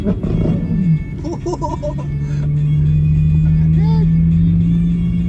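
A Ferrari sports car on a road in Saudi Arabia gives a loud, steady low engine drone that swells and holds near the listener, with brief traffic and voice sounds early on.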